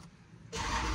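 A Dodge SRT car engine cranks and catches, its sound jumping from a quiet cabin hum to a steady, loud idle roar about halfway through.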